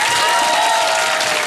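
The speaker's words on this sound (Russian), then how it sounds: "Аплодисменты Виктории." A television studio audience applauds, a loud, dense burst of clapping that stays even for a moment close up.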